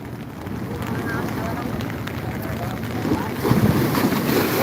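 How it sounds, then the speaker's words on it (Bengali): Sea waves churning during a storm, heard as a dense roar under heavy wind buffeting the microphone near the shore, with a swell rising toward the end. "অসম্ভব সুন্দর ঢেউ"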